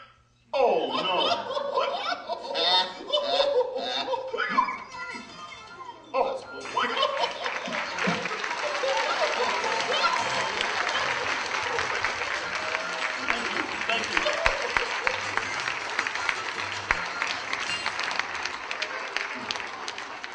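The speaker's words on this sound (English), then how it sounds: "Steve Axtell, give a big cheer!" A theatre audience applauds and cheers for ventriloquist Steve Axtell's toucan act in England, a dense steady roar of clapping with laughter and voices that keeps going loud for the whole stretch after a short spoken opening.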